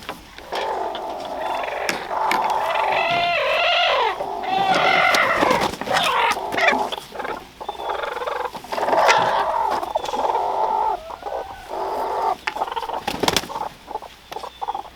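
A flock of pastured hens clucks and squawks busily in a pen while eggs are gathered, with overlapping calls close by and some rustling and knocks.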